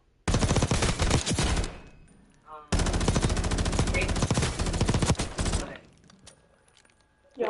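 Sustained bursts of automatic gunfire in the video game Warzone, two long loud rattling volleys with a brief pause between them and a fainter tail, while a voice talks.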